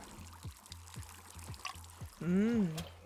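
Liquid pouring in the video game Wanderstop, a soft, evenly pulsing glug-like trickle that repeats steadily, followed by a brief voiced sound near the end.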